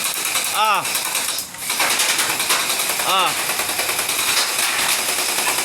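A toy gun bought on TikTok fires in short bursts, rattling buzzy shots with whining spin-ups at two moments, close and loud over continuous outdoor background noise.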